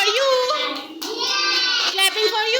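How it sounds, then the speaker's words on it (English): Young children in a preschool classroom clap their hands together while their voices chant and sing loudly over the claps throughout. "Clapping for you."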